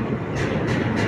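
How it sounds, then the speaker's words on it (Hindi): Vibhuti Express at the number 4 platform of Patna Junction, heard as a loud, close, steady rumble of rolling rail cars with faint rhythmic pulses and no talking. "अपनी ट्रेन जो है 4 नंबर प्लेटफॉर्म पर लग चुकी है।"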